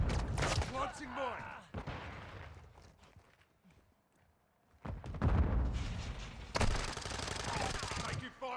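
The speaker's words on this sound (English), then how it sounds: "Taking fire over here!" Bursts of automatic gunfire rattle in a Call of Duty: Modern Warfare 2 team deathmatch, loud volleys broken by a quieter lull, with voices calling out among the shots.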